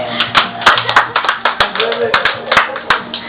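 Scattered hand clapping from a small group at a birthday gathering comes in uneven bursts, with voices chattering among the claps.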